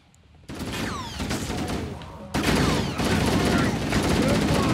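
Sustained automatic gunfire from the Halo: The Master Chief Collection video game, a dense continuous rattle of shots with whizzing projectiles, starting abruptly and growing louder after a brief break.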